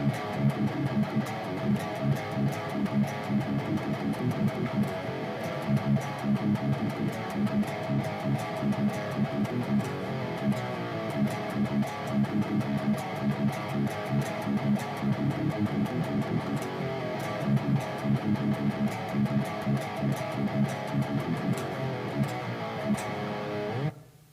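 Downpicked metal guitar riff from the chorus of a song, a dense, driving distorted tone playing steadily and loud without pause for over twenty seconds, then stopping abruptly.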